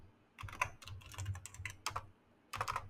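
Quiet keystrokes on a computer keyboard while entering a Linux terminal command, a few clustered taps in short bursts with pauses, close and alone.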